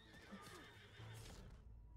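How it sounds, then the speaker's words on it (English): Horse neighing in a cowboy-themed video game, a brief whinny with clip-clop hooves under a busy background of game sounds, faint and low in the mix. "What the fuck are you doing, horse?"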